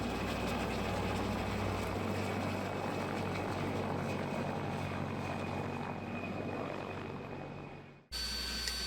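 A helicopter on a ship's deck in Antarctica, newly fitted with rotor blades, runs a steady, loud rotor and engine drone that holds without a break and then cuts off abruptly near the end.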